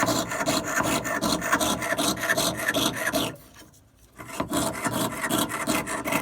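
A jeweler's saw cuts metal in long, steady back-and-forth strokes, a close rhythmic rasp that stops briefly midway and then resumes.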